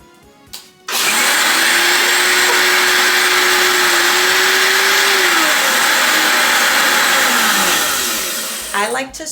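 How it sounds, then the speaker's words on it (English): A kitchen blender on low speed grinds Haitian epis, a pepper and olive oil base, with a loud steady whirring roar that starts abruptly after a brief clatter, holds for about eight seconds, then winds down. "I like to start off by blending it on low, and that helps to like move things around a bit."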